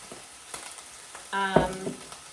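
Coconut aminos shaken into a hot pan while cooking kung pao lettuce cups; a soft background hiss gives way to a loud, close frying sizzle that flares briefly and then settles.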